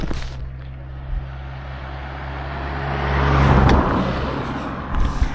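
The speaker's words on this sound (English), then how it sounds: "there's a car coming now" A car approaches along a roadside at sunset, its engine rumble building to a swell as it passes close by, then easing off over a steady low hum.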